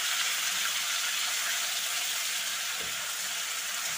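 Tomato and spice paste being cooked in a pan for an egg and potato curry, making a steady, dense, close sizzling hiss throughout, with no talking.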